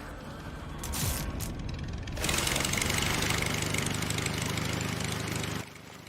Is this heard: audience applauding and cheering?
no